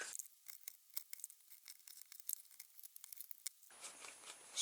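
A knife blade slicing a slot into glued cardboard on a small rubber-band car, giving a string of short, close scratchy tearing and crinkling strokes, then a brief rougher scrape at the end.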